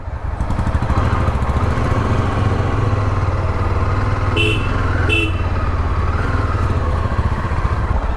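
Yezdi Adventure motorcycle riding on the road between Goa and Pune via Amboli Ghat, its steady engine drone continuous and loud throughout, with a brief horn-like tone near the middle.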